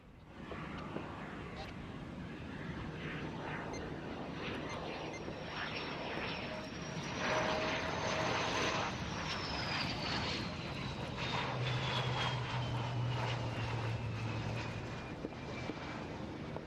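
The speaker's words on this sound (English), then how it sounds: "As the LCA taxis out and vacates the runway" A Tejas LCA single-engine fighter jet taxis on the runway at an air force display, a steady engine whine rising and falling in pitch, with a commentator talking over it.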